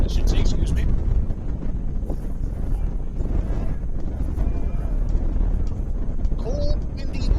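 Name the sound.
wind blowing into microphone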